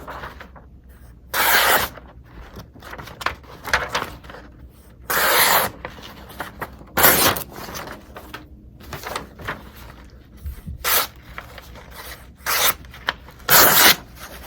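A KA-BAR Short Heavy Bowie knife, model 1276, new old stock straight from the box, slicing through a sheet of printer paper, several brisk crisp swishing cuts separated by pauses and softer paper rustling, close up.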